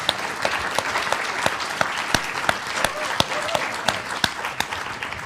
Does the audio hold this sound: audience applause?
yes